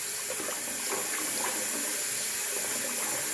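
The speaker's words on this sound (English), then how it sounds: "Let me get my face wet here. I got me a nice sink full of hot water." Hot water running and splashing into a filled bathroom sink on a cold evening, a steady close wash of trickling and sloshing with no voices.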